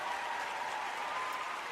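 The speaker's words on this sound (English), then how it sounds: "thank you for that applause." An audience claps steadily at a book discussion group event, a dense, continuous wash of applause at moderate distance with no voices over it.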